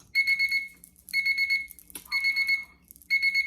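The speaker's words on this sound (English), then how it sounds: "Right at the buzzer." Electronic end-of-time buzzer at a banquet trivia challenge game, sounding in three repeated pulsing bursts with short gaps and a brief knock between them, fairly loud with no talk over it.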